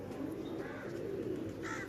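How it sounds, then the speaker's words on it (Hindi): Two blue kamgar pigeons coo in a steady low murmur, close and continuous, with no one speaking over them. "ये दो भाई हैं जी, नीले कमगर कबूतर"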